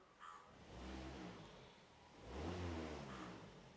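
A car engine idles and is lightly revved twice, each rev a smooth rise and fall in engine note, close by and fairly faint.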